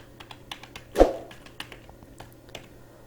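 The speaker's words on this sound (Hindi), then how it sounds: "यहाँ पर हम टाइप करते हैं 500 लीटर" Light clicking keystrokes on a computer keyboard, a sparse irregular tapping with one firmer key press near the start, heard close up in a quiet room.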